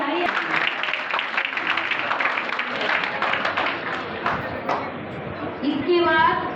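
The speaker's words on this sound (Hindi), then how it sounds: "तालियां बच्चों के लिए रुकनी ही नहीं चाहिए, तालियां रुकनी नहीं चाहिए" Applause for children at an event, a crowd clapping in a busy, uneven patter that thins toward the end, with a voice and other sounds briefly mixed in near the close.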